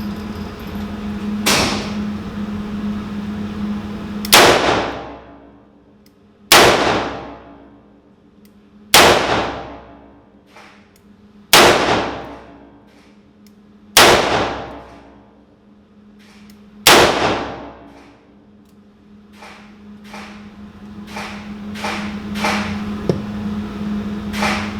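Six double-action shots from a Ruger GP100 .357 revolver at an outdoor range, each a loud sharp crack with a ringing decay from a steel target, evenly spaced a few seconds apart, followed by more distant shots.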